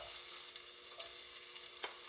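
Hot oil sizzles steadily while garlic sautés in a pan, a constant bright frying hiss at moderate distance with small crackles and occasional stirring clicks, no voices.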